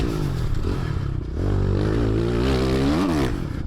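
A motorcycle on a race track in technical conditions, its engine droning close and loud then rising in pitch as it revs and accelerates, with no talking.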